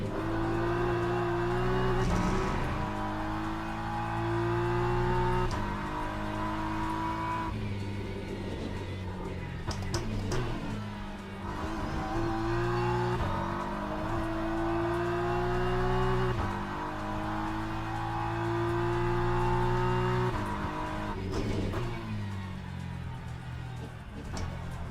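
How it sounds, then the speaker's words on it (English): Race car engine in the Le Mans Ultimate or iRacing sim racing games, droning loudly and continuously with rising and falling pitch through gear changes as it accelerates and shifts, alone without talk. "I have a suspicion it's the engine sound."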